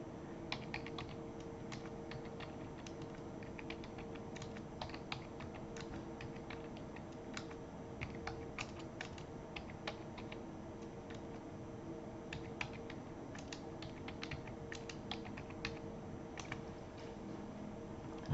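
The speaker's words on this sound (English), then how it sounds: "we're going to type those 10 numbers into list 1" Rapid clicking of keys as numbers are entered on a calculator keypad for a statistics problem, a steady patter of small sharp taps continuing for many seconds, close and clear, with no voices.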